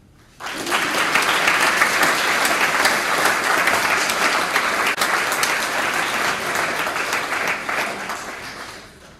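An audience at a high school coronation ceremony bursts into sustained loud applause congratulating Jackson Ralston, dense clapping starting abruptly and continuing steadily before easing slightly toward the end.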